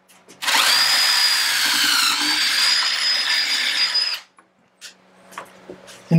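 A power drill bores pocket screw holes into wood through a jig, one loud sustained whine of about four seconds, followed by quieter clicks and handling knocks.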